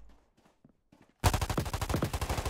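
Rapid automatic gunfire in the Roblox shooter Riotfall bursts in loud and close after a quiet stretch, a dense, fast rattle of shots continuing to the end.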